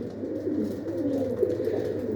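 Purebred pigeons kept by a breeder coo close by, a soft, throaty, rolling murmur that runs continuously through the short clip with no talk.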